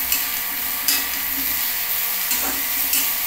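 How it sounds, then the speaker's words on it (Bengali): Cauliflower florets frying lightly in hot oil for a roast, a steady close sizzle with occasional stirring scrapes and bursts of spitting, no talking. "একটু হালকা ভেজে নিচ্ছি"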